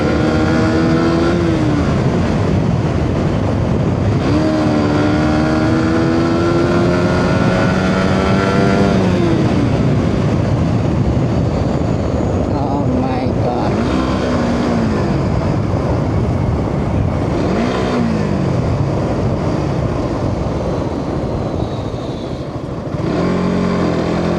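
A Suzuki GSX-R sport motorcycle ridden at high speed, its loud engine droning steadily throughout with repeated rising revs as it accelerates through the gears, along with constant wind rush.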